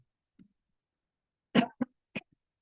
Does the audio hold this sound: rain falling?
no